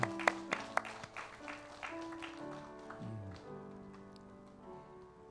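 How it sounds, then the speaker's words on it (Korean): A church congregation at a Sunday service gives a few sharp, scattered claps that quickly thin out, leaving soft sustained musical tones. Everything is quiet and somewhat distant. "하나님께 영광의 박수를 드리겠습니다."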